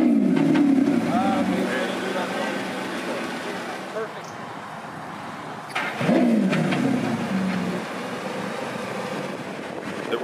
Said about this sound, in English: And here comes the startup.